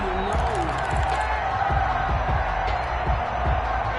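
A stadium crowd in the football video game Madden cheers and claps for the defense, a dense, loud, continuous roar with scattered thumps and whoops, and an announcer talks over it.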